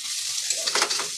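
Hilsa head and ash gourd curry with toasted cumin powder stirred in a pan, a short burst of bright sizzling hiss with light spoon scraping, close and steady.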